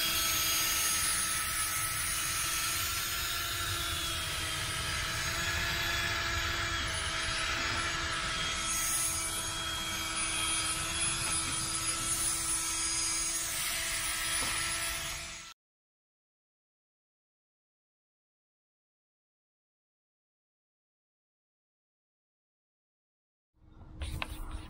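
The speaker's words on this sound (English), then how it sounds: "I've got the white 500 grit sanding pad on it" Old, roughly 20-year-old plastic headlight being machine-sanded with a white 500 grit pad from a 3M headlight restoration kit: a loud, steady whirring drone with a constant hum for about fifteen seconds, then silence before a brief restart.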